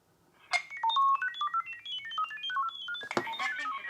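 A mobile phone pairing with a Conico wireless IP security camera plays a fast run of chirping configuration tones, a loud rising and falling sequence of short beeps, then a brief clunk and a burst of busier electronic chirps.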